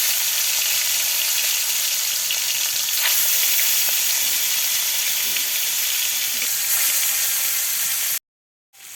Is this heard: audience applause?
no